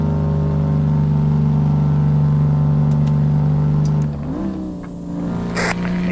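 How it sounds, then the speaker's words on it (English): A truck engine in American Truck Simulator drones at a loud, steady idle-like hum, then its pitch dips and rises again as the revs change. "the engine sounds are, I really like that on here"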